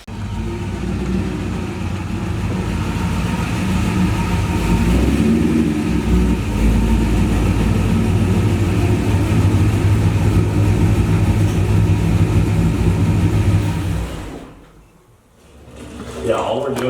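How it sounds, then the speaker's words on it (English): A Chevrolet C5 Corvette engine runs loud and close at a steady, rumbling idle for most of the stretch, then cuts out abruptly near the end. "So we're gonna fire the car up here in a sec"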